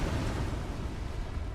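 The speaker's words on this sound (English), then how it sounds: "Explosions in the background." Explosions in the video game PUBG rumble in the background as a dense, low, continuous roar of distant blasts, moderately loud and without voices.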